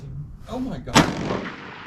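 A single sharp rifle shot from a WW1 American-made Mosin M91 fired at a 600-yard range, a loud crack with a brief ringing decay, preceded by faint indistinct sounds.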